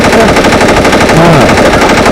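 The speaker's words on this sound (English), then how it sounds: "Gunfire. That's all you heard was just gunfire." Loud, rapid automatic gunfire rattles continuously in a dense, unbroken stream, close and overpowering.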